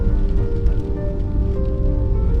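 Rain falls steadily in the Bardenas desert in Spain, likely heard from inside a Twingo, as a dense, continuous patter with a low rumbling wash and faint tonal hum, close and loud, with no talking.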